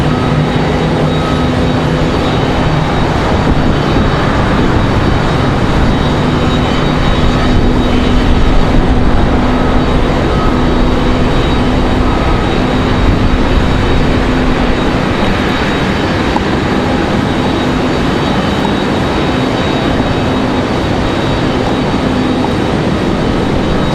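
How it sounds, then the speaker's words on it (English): A Boeing 737-7 airliner taxis toward the runway at Raleigh-Durham International, its jet engines giving a steady, loud broadband roar with a faint whine that holds evenly throughout, while gusty wind blows nearby. "As they pull the 737-7 out to the starting line"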